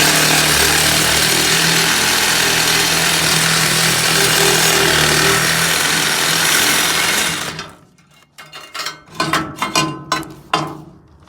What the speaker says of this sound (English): One more cut to go on this side.